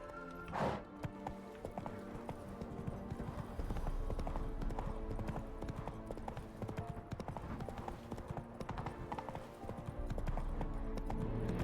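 Horse hooves galloping in The Witcher 3 video game, a fast, continuous clip-clop rhythm under game music and ambience, with a brief louder burst near the start.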